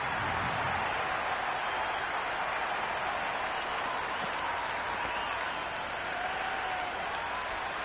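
A large crowd at an Adelaide Strikers versus Melbourne Stars Big Bash cricket match cheers and applauds in a dense, unbroken roar that holds steady throughout.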